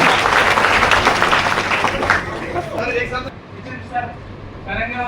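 Vigorous applause from a training-session audience in Nainital, loud at first and then thinning out after a couple of seconds as scattered claps and crowd chatter take over.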